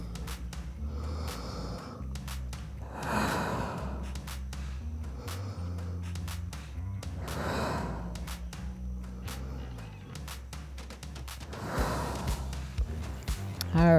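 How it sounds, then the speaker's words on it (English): Slow, deep breathing in child's pose during a paddleboard core workout: several long, audible inhales and exhales spaced a few seconds apart, close and steady over a low background hum. "take a couple deep breaths"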